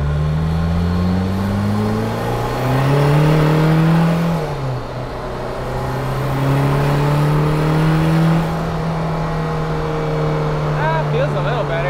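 A 1.6L turbodiesel car accelerating in second gear, engine drone rising steadily in pitch, dipping briefly at a shift, then climbing again, loud and close throughout.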